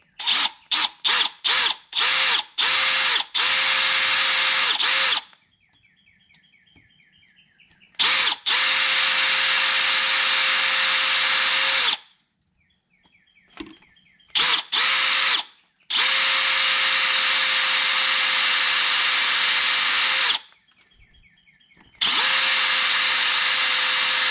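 A power drill whines loudly in several long bursts, starting with quick short triggers, while drilling out a broken bolt on a BMW N52 engine, separated by pauses with quieter scraping and clicking.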